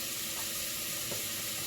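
Bacon fat rendering in a hot pan, a steady dense sizzle and crackle holding at an even level throughout, close and unbroken with no talk.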